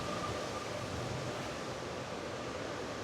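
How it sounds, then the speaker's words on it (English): Steady wind rushing across an open lakeside park, a continuous broadband roar with no gaps, heard close and fairly loud with no voices. "Wind is really picking up now."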